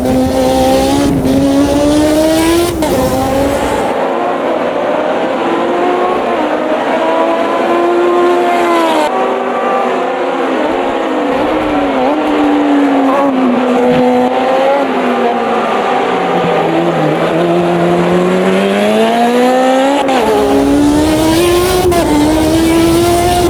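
A 1986 Formula 1 car screams loudly and continuously in Automobilista 2 at the Canadian Grand Prix, its engine pitch rising through gears and dropping sharply on downshifts, with brief tire squeal and no talking.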